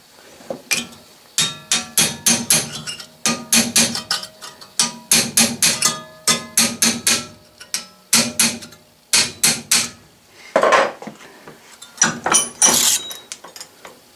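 A ball peen hammer drives a steel chisel through sheet metal in a rapid run of sharp metallic strikes, each with a ringing clink, in uneven rhythm and close to the listener.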